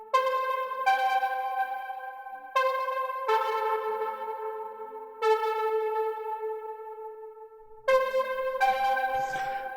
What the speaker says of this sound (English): we've also got another pluck here, which is from Diva as well